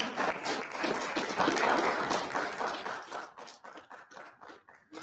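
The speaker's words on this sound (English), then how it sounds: "Can we give our team a round of applause?" Audience applause for a team at a county board of commissioners retreat: a dense burst of clapping that swells and then thins to scattered individual claps, moderately distant in a meeting room.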